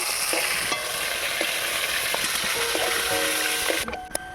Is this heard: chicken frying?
yes